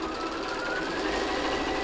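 A sewing machine stitches a soft toy koala, running as a steady, close, continuous motor hum with a rapid needle clatter and no voices.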